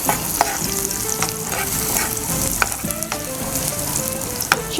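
Onions sautéing in a pan for Filipino pancit bihon, a loud, close sizzle with scraping stir strokes and a few sharp clinks, no talking.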